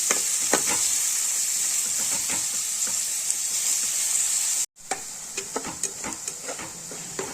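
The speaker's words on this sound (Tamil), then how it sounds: "ஒரு மூணு வெங்காயம் ஒரு நாலு பச்சை மிளகாய் போட்டுக்கலாம் இது நல்லா வதங்கணும்" Three onions and four green chillies sautéing in oil in a kadai for a Chettinad prawn thokku, a loud steady sizzle with ticking spatula stirs, briefly cut off then resuming with sharper stirring clicks.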